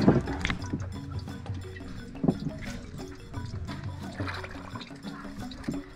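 Fish being washed by hand in a basin of water in a Ghanaian village kitchen, with steady splashing, sloshing and dripping close up and no talk.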